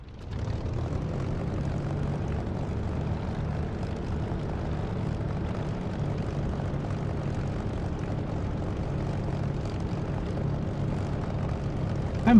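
A Spitfire fighter engine in the DCS flight simulator, using the Echo 19 sound mod, drones as a steady, moderately loud propeller roar that holds constant throughout with no talk.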